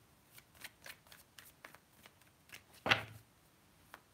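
Tarot cards shuffled by hand in a quiet room: soft, fast papery riffles and flicks, then one sharper snap as a card is pulled, all faint and close.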